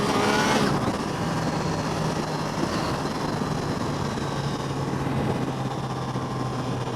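A Triumph Tiger Sport 660 motorcycle accelerates hard in second gear, its engine note rising to a steady, loud roar mixed with heavy wind rush, continuous and close for several seconds.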